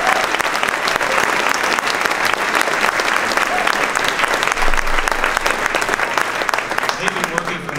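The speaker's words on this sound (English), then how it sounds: "Give these folks a big round of applause." Loud, sustained audience applause at a party program honoring volunteers, dense steady clapping from a large crowd filling the room, with faint voices mixed in.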